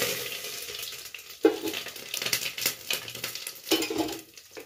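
Cumin, bay leaf and red chilli hit hot oil in a pressure cooker, giving a soft crackling sizzle with a couple of sharper spattering pops and light metal clinks, fairly quiet and with no talking.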